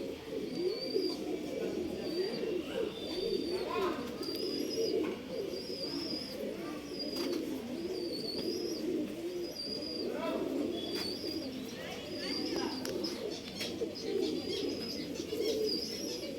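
Pigeons coo steadily and nearby, with low rolling calls overlapping throughout alongside a few brief chirps and faint wing rustles, in a loft where a breeder keeps top quality pairs for sale.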